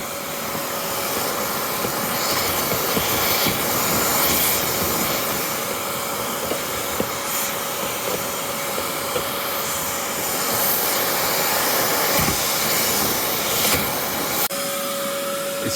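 A DIY gutter vacuum sucks twigs and debris out of a house gutter, a loud steady roaring whoosh with intermittent rattling clatters and crackles as material is drawn up the pipe.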